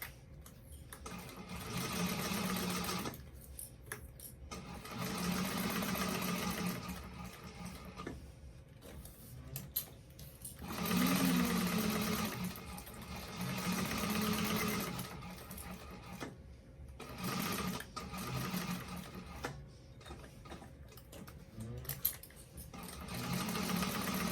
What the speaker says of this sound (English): And then I'm going to continue down and just baste the sides together.